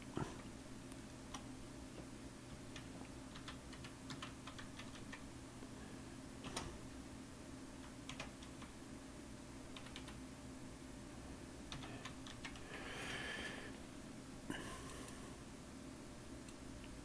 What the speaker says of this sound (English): I'm going to go ahead and type out Sunset Mart